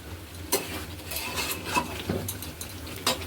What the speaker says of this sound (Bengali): এবার এটাকে আমি ভালো মতো কষিয়ে নেব।